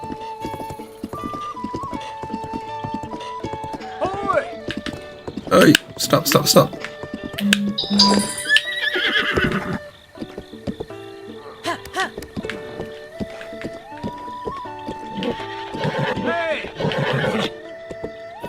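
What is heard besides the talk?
horse hooves and whinny in Zelda: Breath of the Wild video game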